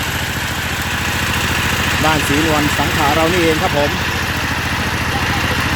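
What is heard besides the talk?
engine powering a small well-drilling machine, 2-inch pipe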